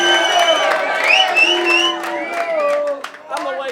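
A crowd at a rap battle erupts in cheering, whoops and shouts, a dense roar of voices with scattered clapping sustained throughout, loud and close.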